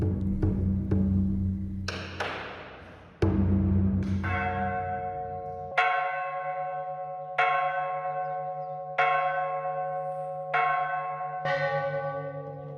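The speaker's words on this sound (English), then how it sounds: "When the evening bell rings, the day quietly fades away." A temple bell rings out at evening, about eight separate strikes spaced a second or two apart, each ringing clear and sustained before slowly decaying, loud and alone with no voices.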